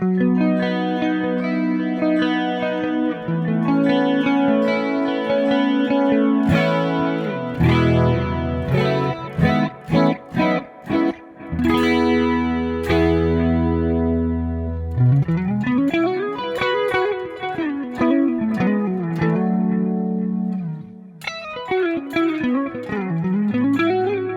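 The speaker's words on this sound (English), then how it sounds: "It's got quite a lot of reverb on it already." Electric guitar with distortion and heavy reverb from a Sonicake Pocket Master, chords and single notes ringing out with long washy tails, then a wavering pitch-bending passage; no talking.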